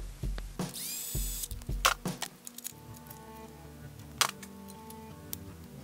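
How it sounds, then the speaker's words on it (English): A bolt is fitted into a sensor on an Audi or VW 09G transmission, with sharp clicks and metallic tool taps in quick succession, then a softer steady tool sound, all close by. "we're putting the bolt in the sensor here."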